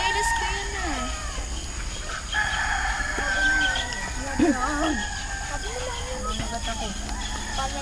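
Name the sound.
roosters crowing and chickens clucking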